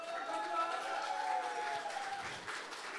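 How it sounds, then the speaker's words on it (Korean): At a party rally to choose a mayoral candidate, the audience gives a distant, continuous round of applause, a soft wash of many hands with voices rising through it. "고생하신 5분 후보자에게 다시 한번 따뜻한 격려의 박수 부탁드리겠습니다"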